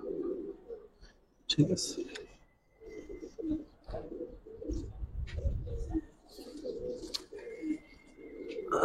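Giribaz pigeons of the Palla line cooing in soft, low repeated phrases at close range, with people talking between and over the calls and a brief clatter near the start.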